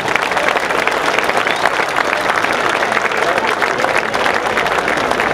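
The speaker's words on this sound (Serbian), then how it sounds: "može li još jedan aplauz za njih?" Steady, dense applause from a large audience at a folklore concert featuring ensembles from several countries, sustained and loud throughout without a break.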